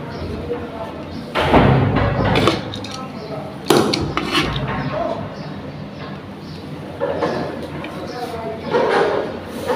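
A few heavy thumps and clatters, like a door knocking against its frame, break out irregularly over ongoing talk and dish clinks.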